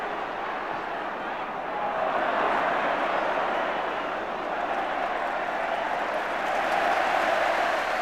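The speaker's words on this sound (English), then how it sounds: "The applause on the Kop is for Gary Gillespie." Football crowd on the Kop at Liverpool during a Liverpool v Everton match applauding, a steady broad wash of clapping and crowd noise that swells slightly after the first couple of seconds and stays loud throughout.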